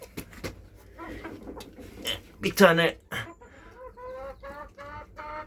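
Chickens clucking around a hen coop, bursts of short clucks and one louder squawk, close by, mixed with brief talk from a nearby voice.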